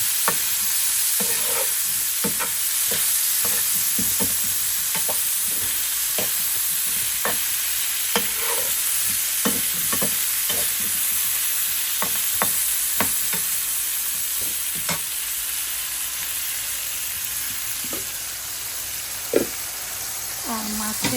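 Cauliflower florets lightly frying in a pan for a fish curry, with a continuous loud sizzle broken by repeated knocks and scrapes of a spatula stirring against the pan, and a voice speaking at times.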